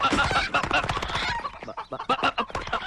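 A group of loose chickens clucks and squawks busily and close by. The calls come in dense, overlapping bursts that keep going without a break.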